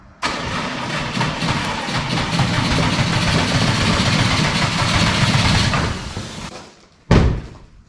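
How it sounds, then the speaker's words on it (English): A Subaru WRX with a failed clutch fork pin is moved by its starter motor, giving a long steady mechanical churning drone for several seconds in a garage. It stops, then a brief loud bang follows. "use the starter to pull this thing up in the garage here"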